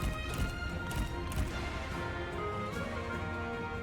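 Horse hooves clip-clopping at a gallop in the Three Kingdoms strategy game, Gongsun Zan campaign, a steady rapid patter under busy battle ambience, with no voices.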